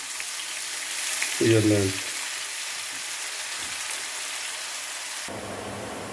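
Diced onion cubes frying in a pan for a Punjabi-style rajma, a steady broadband sizzle throughout with a brief louder burst early on and a short spoken remark over it.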